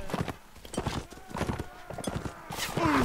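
Horse hooves clip-clop at a gallop in the medieval combat game Mount and Blade Warband, a steady rapid rhythm mixed with battle noise, a whinny and someone talking over it.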